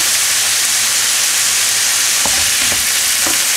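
Beef with mushrooms and ginger sautéing in a pan with a splash of water, a steady broadband sizzle with a few sharp stirring clicks near the end, close and fairly loud.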